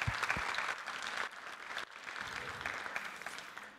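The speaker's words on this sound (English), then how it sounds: "a big round of applause" Conference audience at a WordCamp keynote applauds steadily, a dense wash of many hands clapping at moderate distance, continuous for several seconds without talk.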